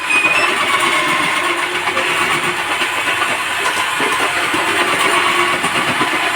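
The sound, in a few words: electric food processor with blades running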